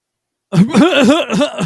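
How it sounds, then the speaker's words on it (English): A man clears his throat with a few rough, close, loud guttural rasps after a brief silence. "I got to clear my throat"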